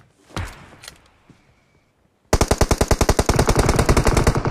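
Rapid automatic gunfire from the PUBG Mobile battle royale game bursts in loudly and keeps going in a steady, fast stream after a couple of sharp, isolated shots and near silence.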